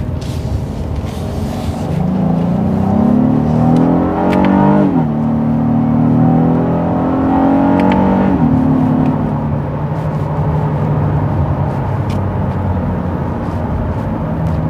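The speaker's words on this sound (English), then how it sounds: "let you hear how it sounds from the inside, this V6 engine" A 2020 Honda Passport's V6 heard from inside in sport mode with traction control off, revving up in two strong acceleration pulls, pitch climbing then dropping at each shift, loud and close, then settling to a steady drone.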